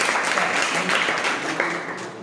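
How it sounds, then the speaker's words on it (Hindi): A classroom of children claps together for a teacher's magic-water demonstration, a dense, steady patter of many hands sustained for about two seconds without a break. "ताली बजाओ पानी के लिए।"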